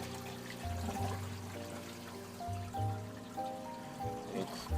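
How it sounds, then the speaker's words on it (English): Water trickles and splashes steadily into an aquarium sump as an auto top-off system fills it. The flow stays low and close throughout, with a faint pump hum. "The water's still running into my sump"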